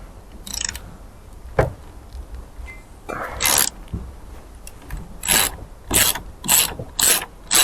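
Ratchet wrench clicking as it backs out a 7/16 shifter bolt on an MTD riding mower, with several short bursts of rapid close-up ratcheting separated by brief pauses and a single sharp knock.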